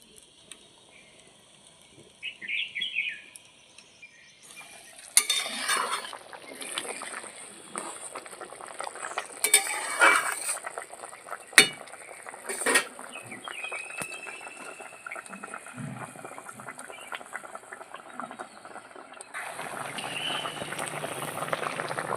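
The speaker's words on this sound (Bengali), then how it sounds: "ভালো করে ঝোলটা এখন ফুটিয়ে নেবো" Tangra fish curry gravy boils in a pan, a soft continuous bubbling and simmering that runs through the whole stretch, with occasional louder clinks and kitchen handling sounds over it.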